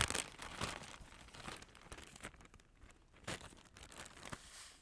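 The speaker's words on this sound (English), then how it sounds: "put a strawberry into a plastic bag with a teaspoon of salt" A plastic bag holding a strawberry and a teaspoon of salt is squished and crinkled by hand, giving soft irregular crumpling and crunching with brief louder crackles, close and quiet, no talking.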